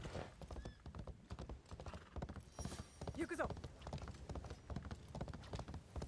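A horse's hooves clip-clop at a steady trotting rhythm while riding in the video game Assassin's Creed Shadows, the game sound quiet and mixed under a player talking.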